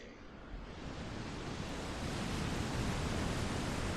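Steady broadband rush of water in Final Fantasy 16, like surf or a waterfall, holding at an even, fairly loud level throughout with no voices.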